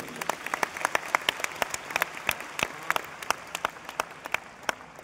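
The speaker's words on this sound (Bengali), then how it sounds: "ফাটিয়ে হাততালি হবে নিজেদের জন্য।" Audience clapping at a motivational seminar, a dense burst of many hands applauding together with sharp irregular claps, steady and fairly close throughout without talk.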